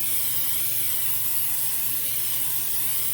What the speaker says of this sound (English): once you have all your surfaces sprayed